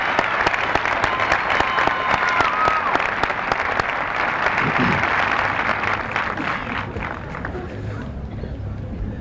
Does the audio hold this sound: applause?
yes